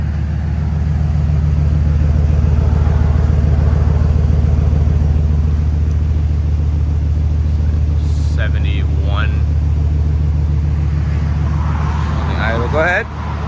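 A 2022 Jeep Wagoneer's 5.7L HEMI V8 with Valvetronic Designs exhaust and true duals, valves closed, idles in a steady, loud, deep rumble throughout, with a few brief higher-pitched squeaks toward the end.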